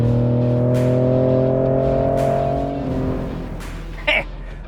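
A 2019 Ford Raptor SuperCrew truck with a 3.5-liter V6 EcoBoost engine revs hard and accelerates. Rising engine tones swell close and loud, then fade into road rumble, with a brief hiss near the end.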